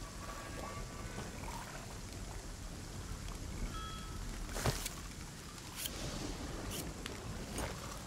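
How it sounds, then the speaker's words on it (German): Rain in the survival video game ASKA, a steady hiss of falling rain at moderate level with a few sharper drops or splashes and faint tonal game sounds, no talk. "Regnet gerade, da ist sie nicht so schön draußen."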